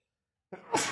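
A single short sneeze bursts out alone after a brief silence, close and fairly loud, with a breathy, noisy burst spreading across a wide range.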